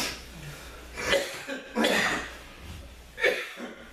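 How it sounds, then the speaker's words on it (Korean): Several rough coughs from a man during a sermon come in a loose series, close and moderately loud, with breathy pauses between them and no talking. "지금 제가 기침하지"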